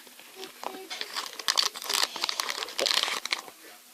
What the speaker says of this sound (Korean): 마스크 테이프를 처음 만져봐요.